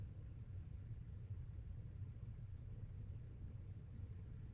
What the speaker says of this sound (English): I hear the hum of the air conditioner